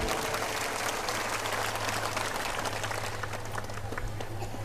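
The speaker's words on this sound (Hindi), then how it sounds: "ताली बजा के जोरदार अभिनंदन करो" A seated audience at a religious discourse claps together in welcome, producing a continuous, fairly distant patter of hands over a low steady hum.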